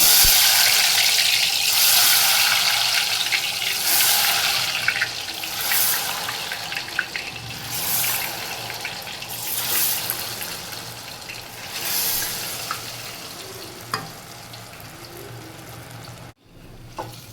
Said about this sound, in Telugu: చూడండి, వేస్తున్నాను ఆయిల్లో.